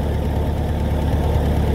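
A 1956 Massey Ferguson TO35 tractor engine running after an ether-assisted start, a loud, steady low rumble with a knocking, uneven chug throughout, close by and alone with no talk.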